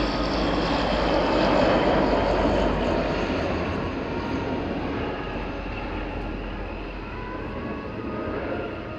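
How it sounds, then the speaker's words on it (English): Breguet Atlantique 2 (Dassault ATL2) maritime patrol aircraft, a twin-turboprop, making a search and rescue support pass at an air show, with a loud, steady propeller drone that swells and slowly fades, no talking. "Bringing the aircraft in now for a search and rescue support configured pass."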